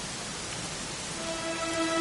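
Steady rain falling in the Dragon Quest XI video game, a soft continuous hiss that holds evenly for a couple of seconds, with faint tonal game sounds entering near the end.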